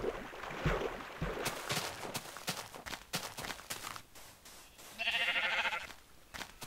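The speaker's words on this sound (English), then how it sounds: "Oh, sheep." Sheep in the Minecraft video game bleat briefly amid a busy stretch of blocky footstep-like thumps and game noise, with a louder bleating burst near the end.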